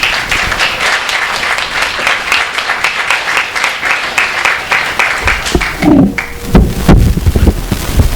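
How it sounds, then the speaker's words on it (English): Warm audience applause greets an author at a book reading event, loud close clapping that thins out toward the end into a few scattered claps and thumps. "Let's please give her a warm round of applause."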